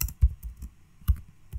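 Typing on a computer keyboard while writing InstallScript code in InstallShield: a few close, sparse key clicks and taps with short gaps between them, quiet and with no talking.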